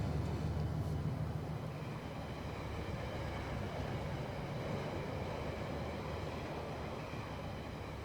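Model trains running on track in the Rolling Line game at Earlestown Junction, a steady low rumble and rolling clatter that holds loud and even throughout, with no voices.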